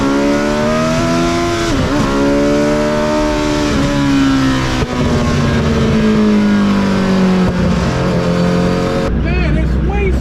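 A Hayabusa-swapped electric vehicle runs at a dragstrip, with a loud, close, sustained engine drone whose pitch slowly shifts. The engine also rises and falls in revs, and a voice talks over it near the end.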